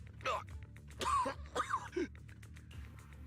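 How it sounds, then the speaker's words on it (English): A few short, harsh coughs and strained groans from a video game character in Zenless Zone Zero, close by, spaced over a couple of seconds, with a low hum underneath. "you're coughing up blood"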